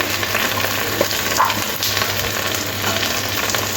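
Cloves, cinnamon and ginger-garlic paste sizzle in hot oil for a chicken chaap, a loud, steady crackling fry with soft stirring clatter close by.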